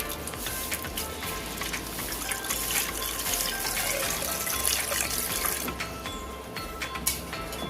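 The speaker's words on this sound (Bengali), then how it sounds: "প্রেসার কুকারের মধ্যে দিয়ে দিচ্ছি ওটা আমি পরিমাণ মতন জল দিয়ে দিচ্ছি" Water being poured into a pressure cooker holding taro, a steady close gushing and splashing that runs for several seconds with small drips and clatter, no talking.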